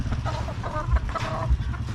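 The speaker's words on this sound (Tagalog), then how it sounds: "Nagre-react lahat yung mga manok na yan." Chickens cluck and murmur in a busy, close cluster, stirred up by a hen set down near them, with overlapping throaty calls and a couple of low thumps.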